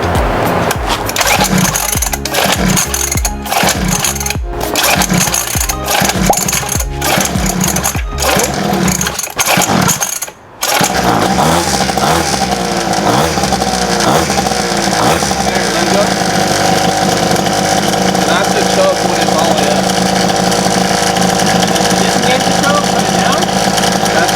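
A Temu 50cc dirt bike engine runs with a buzzy, high-revving drone that cuts out briefly near the middle and then picks up again, loud and close, with voices now and then.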